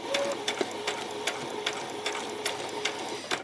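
Close up, a sewing machine stitches a normal straight stitch slowly along a ruffle on a peasant skirt, with a soft, even hum and regular light ticks. No other sound competes.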